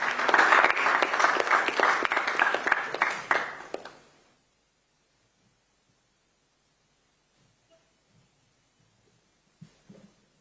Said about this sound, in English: A big round of applause to him for me.